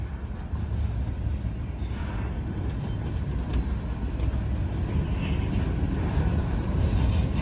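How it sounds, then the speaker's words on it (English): A westbound Norfolk Southern manifest freight train rolls past the Hoover Road crossing, a loud, steady rumble of cars and wheels close by, holding throughout with occasional faint squeals and no talk. "I thought I was about to be videoing a train going across a non-active crossing."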